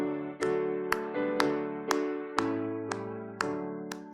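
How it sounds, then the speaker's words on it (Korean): At a New Year dawn church service, a congregation claps in a steady beat, about two claps per second, along with sustained hymn accompaniment, with no speech over it. "우리 박수치며 찬양하시겠습니다."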